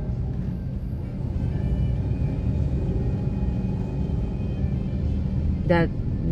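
Heavy road traffic jam in the Philippines gives a constant low engine rumble and idling hum. A brief higher tone, like a short horn, cuts in near the end.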